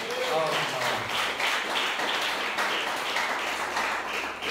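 A church congregation claps in praise, a steady wash of applause throughout that stays moderately loud, while voices carry over it.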